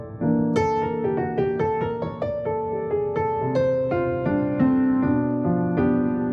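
Pianoteq virtual piano in a virtual room, a melody of close, clear single notes and chords with bright attacks and moderate sustain, played alone without talk.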